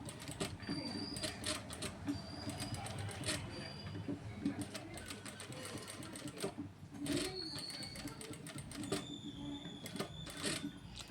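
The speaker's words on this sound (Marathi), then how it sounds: "बघू शकता, असं एकसारखं तुम्ही कडेने टीप मारा।" A sewing machine stitches along the edge of a face powder puff in rapid, rhythmic bursts with brief pauses, close and moderately loud under a quiet background.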